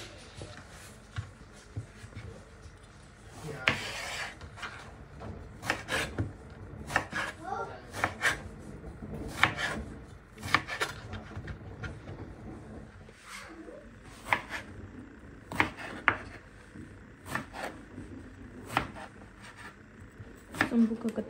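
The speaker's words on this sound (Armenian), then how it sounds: "սմբուկը կտրատում ենք" Knife chopping eggplant into cubes on a board at home, a run of sharp, close, irregular taps in quick bursts with short pauses, while someone talks over the cutting.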